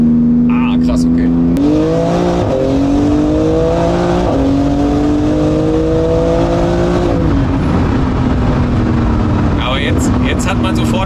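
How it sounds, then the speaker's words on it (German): An 850 hp Porsche GT2 RS accelerates hard, its engine rising in pitch through several rapid upshifts, loud and close from inside the car, with people talking over it. "dass er wirklich die Gänge so komplett durchknallt"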